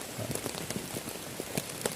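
Rain falling outside a tent at a solo camp near an old hut lands as faint, scattered patters and drops, soft and irregular against a quiet background.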